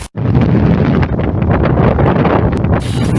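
Strong, gusty high-mountain wind roars and buffets the microphone, loud and continuous with a brief lull at the very start.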